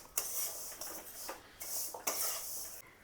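A spoon scrapes and stirs dry milk powder with cardamom powder in a bowl for sevai kheer premix, giving several soft hissing rubbing strokes close by in short bursts.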